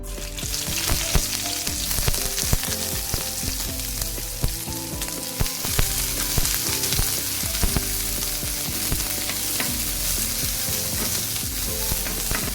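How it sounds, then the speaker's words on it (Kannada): Onions fry in coconut oil, giving a loud, steady sizzle with occasional stirring scrapes throughout and no talk. "ತೆಂಗಿನ ಎಣ್ಣೆಯನ್ನು ಹಾಕಿ ಈರುಳ್ಳಿಯನ್ನು ಫ್ರೈ ಮಾಡ್ತಾ ಇದ್ದೇನೆ"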